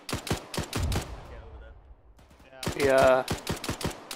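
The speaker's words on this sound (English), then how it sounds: "I'm shooting the contacts just left of the hill in the forest." Rapid bursts of gunfire from the video game ETR: Operation Chechen Uprising come in two clusters of sharp, loud shots separated by a quieter gap. A voice shouts briefly between them.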